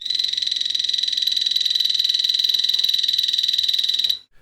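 Epipedobates anthonii poison dart frog calling with a rapid, high-pitched buzzing trill that runs steady and loud for about four seconds at close range, then stops abruptly.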